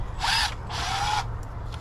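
A power drill drives screws into greenhouse boards on a cattle panel greenhouse, two close whirring bursts, the second longer, then a couple of faint clicks.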